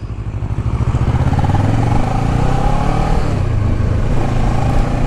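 A 2009 Kawasaki Ninja 650 motorcycle engine running close by, a loud, steady, buzzing drone that rises quickly at the start and holds even throughout, with no talking.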